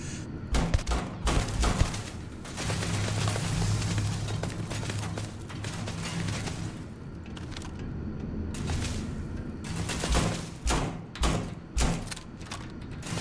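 Gunfire rattles in bursts as turrets are shot at in the video game Starfield, with clusters of sharp, thudding shots at the start and again near the end and a quieter low hum between them; no one speaks.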